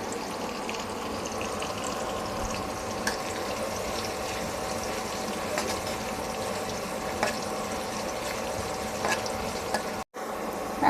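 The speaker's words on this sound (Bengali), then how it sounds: "আমাদের পেঁয়াজ ভাজা হয়ে গেছে" Chopped onions sizzle in hot oil in a pan, a steady close hiss of frying that continues evenly throughout with faint scattered crackles and a brief break near the end.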